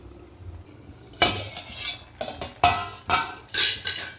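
A lid goes onto a pot of mushroom and peanut gravy, with several sharp metallic clanks and clatters of metal cookware in quick succession after a quiet start.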